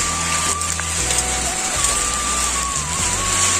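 Steady heavy rain and hail drum on a surface throughout, a dense continuous hiss with a low engine-like hum underneath and a faint whistling tone.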